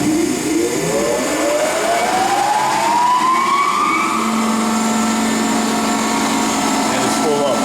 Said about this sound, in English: We'll fire up the main spindle